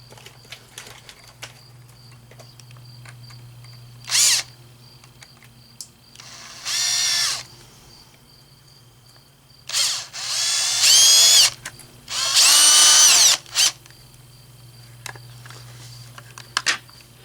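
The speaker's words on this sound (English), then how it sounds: "I will pre-drill the holes" A power drill pre-drills holes on a 2020 Ford Transit, whirring in several short bursts separated by pauses, spinning up and down, with a faint steady hum underneath.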